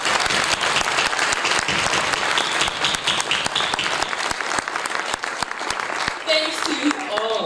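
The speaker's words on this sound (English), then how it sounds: "please join me in giving them a round of applause" A graduation audience at Essex County College breaks into loud, sustained applause, dense clapping filling the whole stretch from start to finish.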